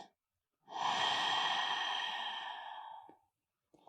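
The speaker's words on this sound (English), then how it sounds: "Breathe in through your nose. Breathe out through your mouth." A slow breath during a yoga session, a single long drawn exhale lasting over two seconds, soft and airy with a hissing, breathy texture, close and alone with no talk.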